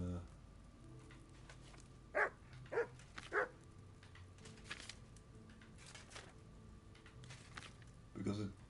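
A dog in the medieval role-playing game Kingdom Come: Deliverance 2 gives a few short barks, three close together and one more later, over a continuous game ambience backdrop.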